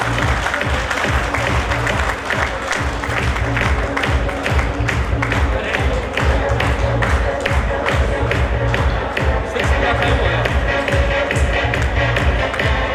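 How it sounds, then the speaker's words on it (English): Dense, steady applause and cheering from an awards-ceremony audience for a first-prize winner, continuous clapping with scattered shouts and voices running throughout. "Can I have a huge round of applause for Mr. Ankit?"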